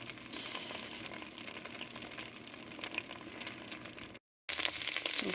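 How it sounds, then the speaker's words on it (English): Potatoes sizzle in melted butter in a pan, a steady close frying hiss that runs without a break apart from one brief dropout near the end. "With these sizzling away in the pan"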